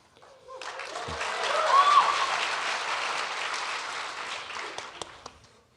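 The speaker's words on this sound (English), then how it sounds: "Thanks for applauding, John." Audience applause at a live taping of a political podcast, a broad wash of clapping that swells to a peak and then holds steady before fading, with no talk over it.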